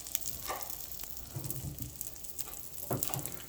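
An omelet cooks over slow, low heat in a pan, giving a steady, soft sizzle with faint scraping stirs and a few brief louder crackles, close and alone.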